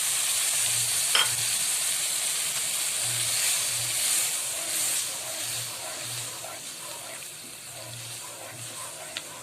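Milk poured into poppy seed halwa frying in desi ghee, a steady loud sizzle and steamy hiss with faint stirring scrapes, close up and without talk.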